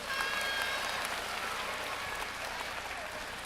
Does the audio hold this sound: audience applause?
yes